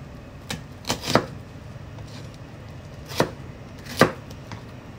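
Knife chopping onion into cubes on a cutting board, a handful of crisp, close taps spaced irregularly over a low background hum.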